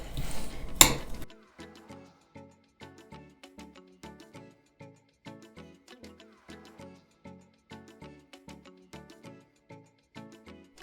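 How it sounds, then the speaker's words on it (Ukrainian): A fork mashes a banana in a deep plate, giving a steady series of short clinks and scrapes at a regular rhythm, close and fairly quiet, after a brief louder knock at the start. "І тепер беру виделкою його роздрібнюю до такої пюре."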